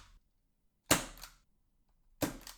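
Two sharp airsoft Mark 23 pistol shots through a Sniper Mechanics hex suppressor, each a brief close crack with a short tail, spaced about a second apart in a quiet room.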